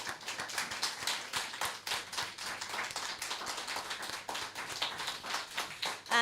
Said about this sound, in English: I want you all to join me in giving them another round of applause